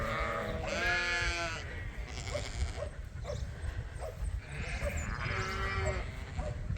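Several loud, close sheep bleats rise over the steady noise of a working farm, with fainter calls repeating between them.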